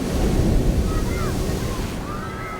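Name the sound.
ocean waves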